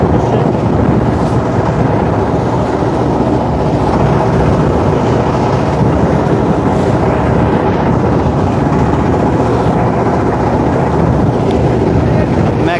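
A rented trawler boat on the Meghna river near Chandpur drones steadily through rough water, its engine rumble blended with heavy wind buffeting the microphone, loud and unbroken for the whole stretch.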